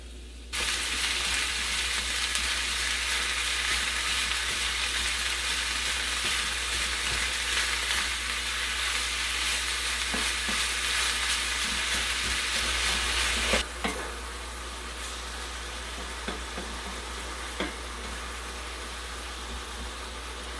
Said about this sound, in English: we're going to cook this all down, and then we're going to strain the grease out of it.